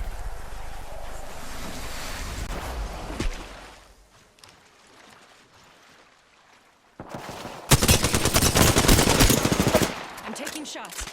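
Apex Legends gameplay with a dense, loud burst of automatic gunfire after a quieter stretch of wind-like ambience, the rapid shots crackling for about two seconds before easing off.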